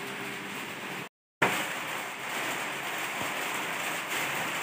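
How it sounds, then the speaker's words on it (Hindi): Heavy rain pouring steadily, a dense loud hiss filling the clip with one brief dropout, no voices over it. "तो खूब बारिश हो रही है भाई, भयंकर झमाझम बारिश हो रही है।"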